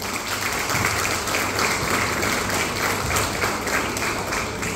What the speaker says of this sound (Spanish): Fuertes los aplausos para el doctor.